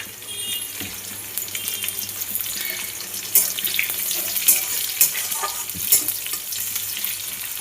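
Onion stalks fry in a pan, sizzling and crackling steadily up close, with occasional louder pops and stirring scrapes.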